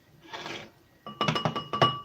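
Half-frozen ice in a plastic ice cube tray clinks and rattles in a quick cluster of four or five sharp knocks, close and fairly loud, following a softer rustle.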